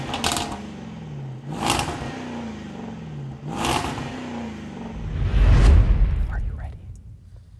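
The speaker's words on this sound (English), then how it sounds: "But the most important piece here are these exhausts. Look at them, because now you're about to hear them." A 2024 Jaguar F-Pace SVR's exhaust blips through several short revs, each rising then falling back, close and fairly loud, ending in a deeper rumbling surge before fading.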